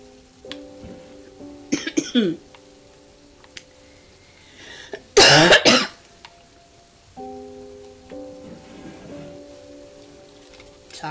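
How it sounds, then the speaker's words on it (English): A person coughs in a few separate bursts, with a harsh, loud fit near the middle, between stretches of quieter background sound; no talking. "Sorry, don't mean to cough in your guys' ears."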